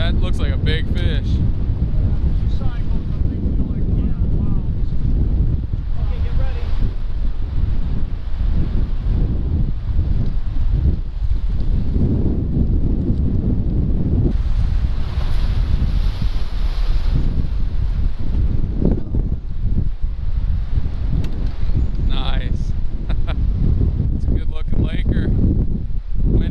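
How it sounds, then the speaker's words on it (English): Strong wind buffets the microphone with heavy, continuous rumbling gusts while jigging for lake trout, as voices talk intermittently underneath. "Just a little windy."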